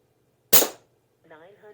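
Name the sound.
Umarex Gauntlet 2 air rifle shot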